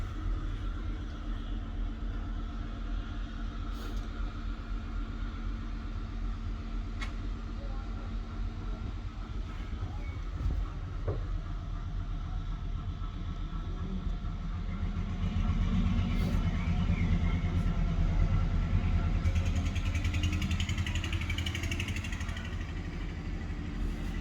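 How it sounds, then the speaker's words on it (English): Steady low diesel engine rumble fills the cab of a heritage railway locomotive in Scotland, continuous and fairly loud with a slight swell later on, with occasional clicks and knocks but no voices. "I'm just in one of the diesel engine locomotives."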